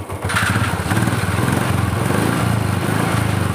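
A Royal Enfield Classic 350 single-cylinder engine runs in gear after brake shoe and chain work, giving a steady, loud, close thumping chug that holds an even rhythm throughout.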